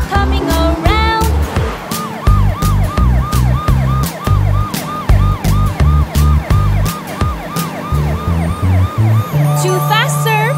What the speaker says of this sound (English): Now I'll turn my siren on.